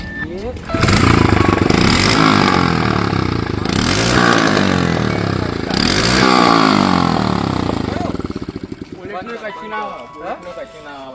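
A motorcycle engine starts and runs loud and close, revving unevenly before winding down near the end, with voices talking over it.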